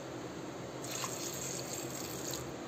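Water pours into a pressure cooker holding chopped vegetables for pav bhaji, a soft, steady splashing stream that is fairly faint and continuous for a couple of seconds.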